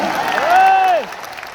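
Crowd at a political rally bursts into applause and cheering, a loud sustained wash of clapping that swells and then fades after about a second, with a high tonal whistle-like sweep riding over it.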